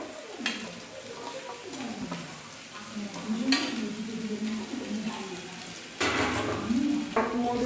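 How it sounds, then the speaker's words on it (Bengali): Soaked sago pearls (sabudana) being stirred and fried in a pan, with a continuous sizzle broken by repeated scraping strokes of a spoon against the pan, close and fairly loud. "এখন আমি সাবুদানাটা দিয়ে দিচ্ছি"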